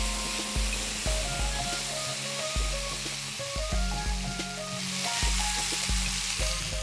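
Spinach puree sizzling and frying in hot oil with cumin seeds and ginger-garlic paste in a pan for tricolor pulao, a steady close hiss broken by repeated low thumps of stirring, with no talking.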